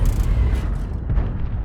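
A tank cannon booms in World of Tanks, a deep low rumble sustained under a heavy, roaring battle bed with no clear separate blasts.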